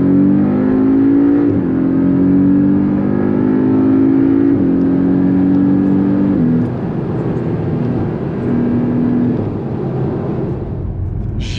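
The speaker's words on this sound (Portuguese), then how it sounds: "dá pra dar uma acelerada boa." A Porsche accelerates hard onto a freeway. Heard from inside the cabin, the loud, steady engine drone climbs in pitch through a couple of gear changes, then settles into a lower cruising rumble.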